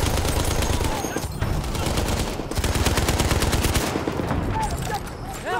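Sustained, loud automatic fire from a Madsen light machine gun during a Ballroom Blitz battle in a World War I shooter game, with continuous rapid rounds, brief pauses between bursts and background battle noise throughout.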